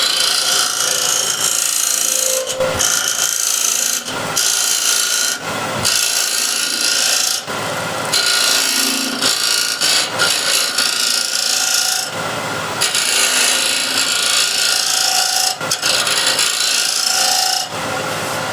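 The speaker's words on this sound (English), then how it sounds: "I'll actually remove this with a much more fun way, using scraper" A hand scraper cuts a spinning wood piece on a lathe, a loud, continuous rasping scrape broken by short pauses as the tool lifts off and returns to the wood.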